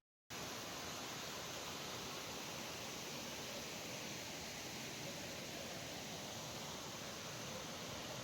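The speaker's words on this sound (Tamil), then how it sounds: "செம்மையா தண்ணி விழுந்துகிட்டு இருக்குல்ல?" Water falls continuously over Manalar waterfall, a dense, unbroken roar that starts suddenly and holds at an even level throughout, with no voices.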